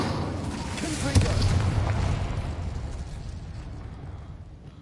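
Confringo blast spell in Hogwarts Legacy, a single muffled boom near the start followed by a rumbling roar that slowly fades away.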